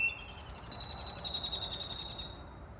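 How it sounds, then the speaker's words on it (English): Birds sing in steady, high whistling calls and chirps over a low background rumble, continuous for a few seconds at moderate distance. "You can hear the birds singing over here."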